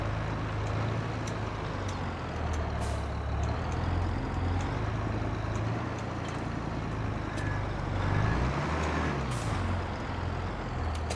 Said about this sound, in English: This thing pulls it like it's nothing. My 4755 with turbo.